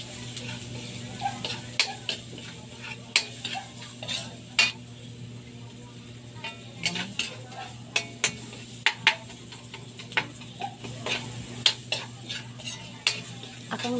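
Adidas adobo, chicken feet, frying in a pan with pepper, a utensil stirring and scraping in sharp irregular clicks over a steady low sizzle.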